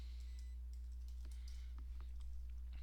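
Keys tapped on a computer keyboard while typing text into a design program, a sparse run of light, close clicks over a low steady hum, with no voices.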